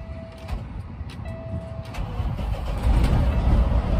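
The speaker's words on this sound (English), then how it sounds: "So all I'm gonna do is I'm gonna turn on the truck first." A vacuum tanker truck's engine cranks and starts up, a steady low rumble that builds and grows louder toward the end, close by with no talk over it.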